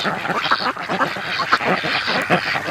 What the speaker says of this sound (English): Oh, there we got the Muscovies.